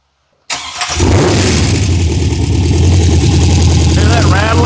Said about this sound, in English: Started getting a lot of rattle up here on the rockers and stuff.